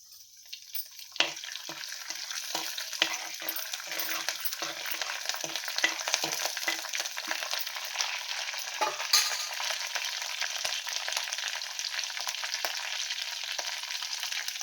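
Curry leaves crackle and sizzle in hot oil in a pan while cabbage curry is being cooked, with a steady bright frying hiss and a quick series of pops at the start. No one speaks.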